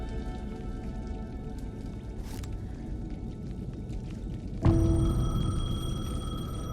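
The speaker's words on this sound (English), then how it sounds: "The payphone was ringing." Rain patters steadily in the Alan Wake 2 video game, then a payphone abruptly starts ringing. Its loud, bright electronic ring cuts in partway through and holds over the continuing downpour.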